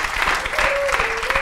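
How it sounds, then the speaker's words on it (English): Studio audience applauding after comedian Taylor Tomlinson's set on a San Diego talk show, a steady dense patter of clapping throughout with a faint tonal hum running beneath it. "give her another round of applause"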